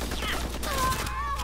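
Gunfire from a player's weapon in a first-person shooter video game, a short burst of rapid shots lasting about a second, loud and close, with a voice talking over it.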